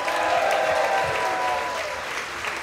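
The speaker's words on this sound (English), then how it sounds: "please give a warm round of applause to Hung Le" Audience applause greets a performer being welcomed on stage: a steady, dense wash of clapping from a crowd that holds strong for nearly three seconds and eases only slightly toward the end.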